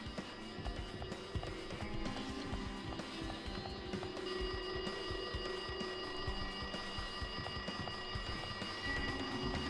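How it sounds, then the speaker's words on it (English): A telephone rings in the video game Danganronpa 2, a continuous electronic ringing tone with a repeating pattern that sits over a low, steady game soundscape and persists for the full stretch. "It looks like that phone is ringing."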